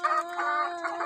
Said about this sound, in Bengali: এই দেখতে পাচ্ছেন মুরগিগুলো ডিম পাচ্ছে